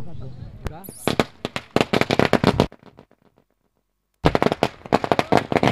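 Firecrackers burst in a rapid, loud string of crackling bangs at a cricket tournament semi-final, fall silent for about a second and a half, then erupt again in another dense volley.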